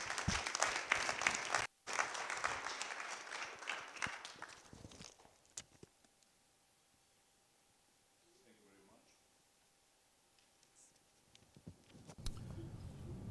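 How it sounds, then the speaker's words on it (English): A crowd at a symposium in Toronto applauds loudly for about five seconds before the clapping thins out and fades into near silence, then a brief burst of noise returns at the end. "A huge round of applause for Dr. Sangha."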